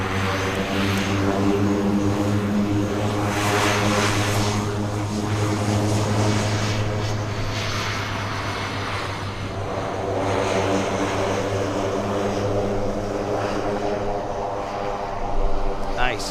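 A medevac propeller aircraft drones loudly and steadily nearby, its throbbing engine hum holding for many seconds as it passes.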